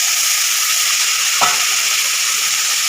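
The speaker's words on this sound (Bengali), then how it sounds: "পুরো চিকেনটাই আমি দিয়ে গ্রেভিটাও দিয়ে দিচ্ছি।" Chicken and gravy go into a pan of half-fried onions for chicken kosha, giving a steady loud sizzle throughout with one brief scrape or clink near the middle.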